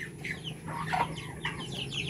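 Native chickens on a backyard farm cluck softly nearby, several overlapping short calls over a low steady background hum.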